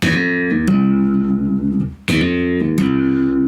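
G&L L2000 electric bass through an Ampeg PF50T amp playing a lick with pull-offs: sustained, ringing notes shift and slide in pitch with sharp plucked attacks, steady and loud with no talking.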